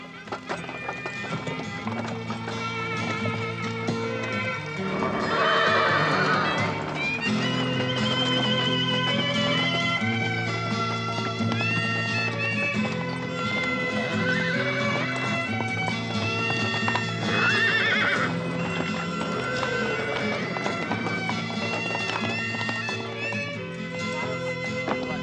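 Horses for artillery men neigh and whinny over a rhythmic clip-clop of hooves, layered with a steady musical bed throughout, loud and continuous for the whole stretch.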